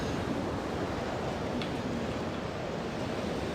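Wind blows steadily through the OpenMW game world, a broad, even rushing noise held at one level throughout with no voices.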